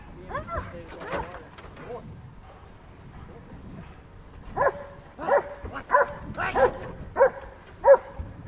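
Police K9 unit dogs barking during a training demonstration near water, a string of sharp, fairly close barks following a stretch of people talking, with voices continuing beneath.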